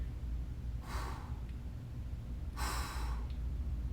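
Two slow, breathy exhalations during a stick mobility exercise, each lasting about a second, separated by a quiet pause over a low room rumble.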